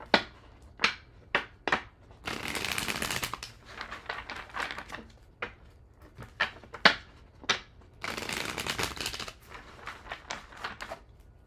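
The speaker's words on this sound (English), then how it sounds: "Can I have 2 more shuffles" Tarot cards shuffled by hand during a live reading, with quick riffling bursts and crisp snapping card flicks, two longer sustained riffles, close and clear with no talking.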